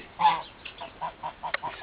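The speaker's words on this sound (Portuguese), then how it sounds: "Vou mostrar os meus gansos." Scattered goose honks, soft and uneven, a few short calls spread out with quiet gaps between them.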